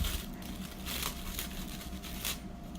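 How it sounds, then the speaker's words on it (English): Soft plastic bag crinkling and rustling in irregular bursts, close by and fairly quiet, with a low steady hum underneath. "Took it out of the plastic bag."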